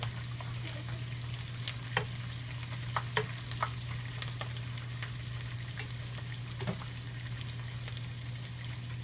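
Green chillies fry in hot oil with a steady, close sizzle and crackle, while occasional sharp pops and stirring clicks rise over a constant low hum.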